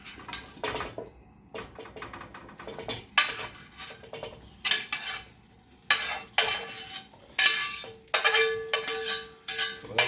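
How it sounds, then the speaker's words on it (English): Sweet potato is moved into a larger lidded pot for a chicken korma, with a run of irregular metallic clinks and scrapes of a utensil against cookware. Quiet pauses fall between the bursts, and no one speaks. "now I'm going to take and transfer it to this larger pot vessel that I have a lid that I can use"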